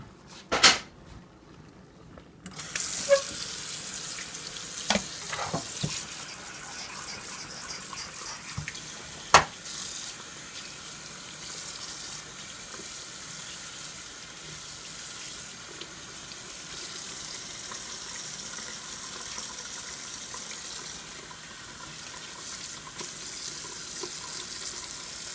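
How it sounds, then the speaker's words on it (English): A tap runs very hot water steadily for a long stretch, water splashing into a sink after a couple of clattering knocks at the start. "There's some very hot water."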